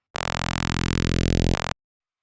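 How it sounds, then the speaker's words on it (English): A synthesizer multi-filter resonance sweep: a buzzy, harmonically rich tone whose resonant peak glides steadily upward over about a second and a half, then snaps back low before cutting off, alone and fairly loud. "That's resonance."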